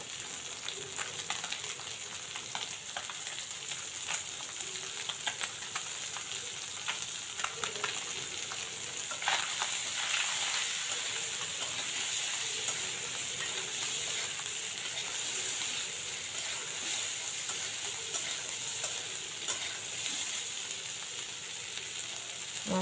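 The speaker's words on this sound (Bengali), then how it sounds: "এখন মলা মাছগুলো একেবারে ভেজে নেব।" Small mola fish fry with onions in a pan for a chorchori, a constant close sizzle running throughout and growing slightly louder partway, with faint stirring scrapes.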